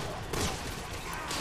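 Gunshots in Resident Evil 6, quiet rapid bursts of fire over a busy game background, brief and somewhat masked.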